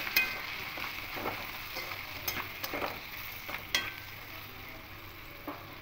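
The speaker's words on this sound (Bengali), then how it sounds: "এবার এই মশলাগুলো এখানে দিয়ে দেবো, দিয়ে খুব ভালো করে মিক্স করে নেব।" Spices being stirred into broken wheat khichuri frying in a pan, with soft scraping strokes and faint sizzling repeating at an unhurried pace, close and quiet with no talking.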